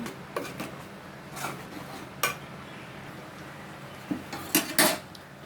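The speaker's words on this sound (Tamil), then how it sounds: "நல்லா கிண்டி விடணும்" A utensil stirs sambar with lentils in a metal pot, scraping and clanking in short, irregular bursts between quiet stretches, close by.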